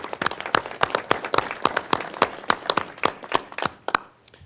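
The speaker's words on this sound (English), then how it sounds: "How about a big round of applause for Kevin?" A small news-conference audience gives a brief round of applause, a sparse set of distinct, sharp claps close by that thin out and stop after about four seconds.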